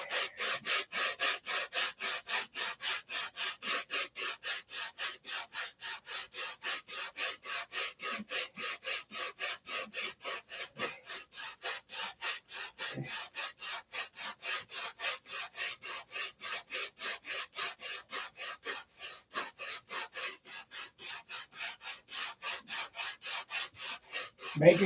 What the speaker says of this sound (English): And take sandpaper roll or a dowel or whatever you got and start sanding.